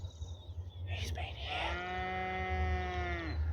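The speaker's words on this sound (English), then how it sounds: "Cows know it." A single long cow moo rising out of rural outdoor background noise, close and clear, with a faint breathy voice just before it.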